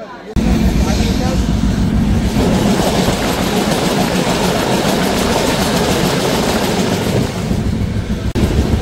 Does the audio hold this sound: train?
yes